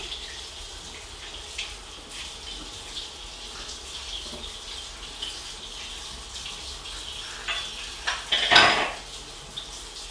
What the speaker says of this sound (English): And then we'll rinse them off